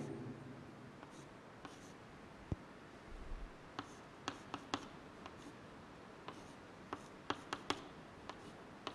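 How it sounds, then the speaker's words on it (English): Handwriting on paper, a chemistry lesson being written out, gives close, faint scratching strokes punctuated by sharp little taps and clicks in an irregular rhythm, with no talking. "Let me write it."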